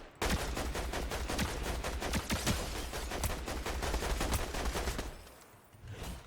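Rapid automatic gunfire in the video game Fortnite, a dense loud burst of shots lasting several seconds, tapering off, then a brief final shot.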